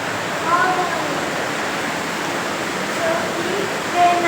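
River water at Mahabaleshwar rushes in a steady, dense wash of noise that stays even and continuous from start to finish, with no clear gaps.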